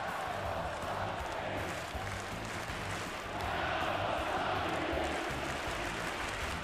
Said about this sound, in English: the crowd absolutely loves it